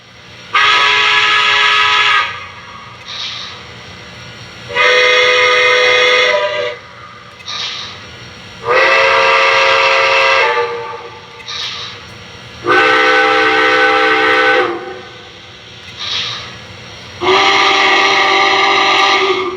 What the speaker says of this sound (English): let's go through the whistles